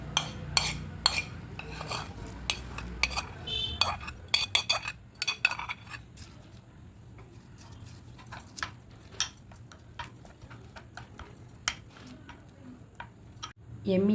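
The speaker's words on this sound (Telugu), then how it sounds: "దీంట్లో పోపు కలిపేసుకోండి." Repeated metallic clinks and scrapes of a spoon stirring tempering into ginger chutney in a bowl, quiet and close, with short pauses between bursts.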